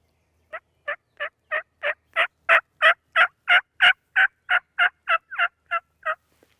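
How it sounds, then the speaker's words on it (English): A long string of about seventeen loud wild turkey gobbles in Wisconsin, rapid and evenly spaced, swelling in the middle then tapering off, with no other sounds. "You never know when your next call might produce a fired-up gobbler"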